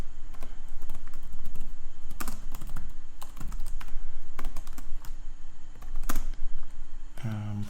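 Keys on a computer keyboard clatter in irregular bursts of typing under a steady background hum, with a short voice at the very end.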